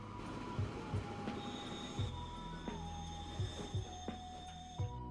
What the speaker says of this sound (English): Oh wow, this train is very old.